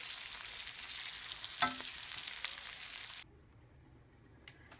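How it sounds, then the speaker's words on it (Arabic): Chicken fries in a glass of oil for an olive tagine, a loud, continuous hiss and sizzle up close, with a brief stir or clatter partway through before the frying sound cuts away to near silence. "راني نقلي فيه كاس الزيت راني نقلي فيه داك الجاج"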